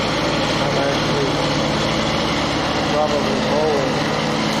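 A 2017 John Deere X750 lawn tractor engine runs steadily while mowing, a continuous close drone with slight rises in pitch, heard under someone talking throughout.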